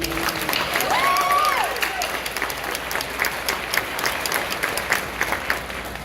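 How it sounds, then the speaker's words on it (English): A crowd at a nursing program pinning ceremony applauds its associate degree graduates with sustained, even clapping filling the room, plus a brief whoop near the start. "I think that deserves a second round of applause."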